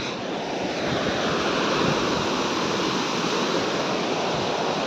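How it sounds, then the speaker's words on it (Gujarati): Swift river water rushing steadily at a bathing spot, a loud, dense broadband roar like surf that fills the whole clip without pause. "તો જો તમને પાણી બતાવવું અત્યારે કેવું આવે હે"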